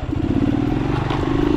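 A motorcycle engine chugging steadily at close range, a low rumbling drone with a faint rise in pitch toward the end.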